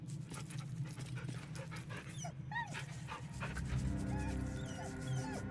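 A pup in the video game Baldur's Gate 3 pants and whimpers while being petted, with soft yips and whiny vocalizations over quick rhythmic breathing, close and clear.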